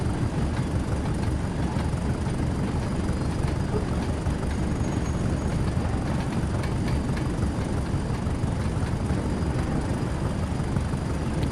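Class 20 diesel locomotive hauling a heavy train in Train Sim World 2 on the Tees Valley Line, a steady dense low engine and rail rumble throughout, loud and continuous with no voices.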